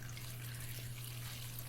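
Water runs steadily from a tap into a plant tray for pepper plants, a soft continuous hiss and trickle with a low steady hum underneath, close and fairly quiet.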